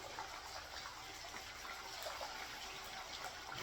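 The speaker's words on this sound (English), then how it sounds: "Just dump excess water into here." Excess water being dumped into a bucket while gold prospecting in Wisconsin, a steady close splashing gush of liquid lasting the whole moment, with no voices.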